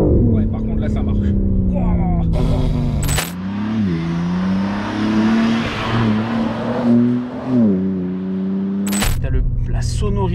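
A 2021 BMW M3 Competition G80 with carbon pack revving loudly, its engine note rising and falling in strong surges, with sharp jangling clicks at the start and end.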